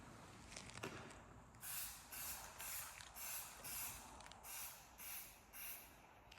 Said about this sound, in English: I'm gonna spray a couple coat of this